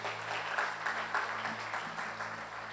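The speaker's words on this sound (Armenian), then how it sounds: "եկեք ծափարենք Տիրոջը" A church congregation claps together in a steady, sustained round of applause, dense and fairly close, with a low hum running underneath.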